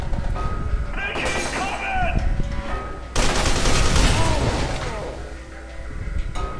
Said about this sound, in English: lots of random explosions.